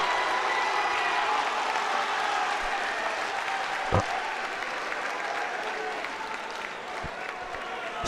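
Applause from a crowd at a high school wrestling match after a pin, a sustained dense patter of clapping in a gym that tapers slightly over several seconds, with an announcer's voice and crowd noise mixed in.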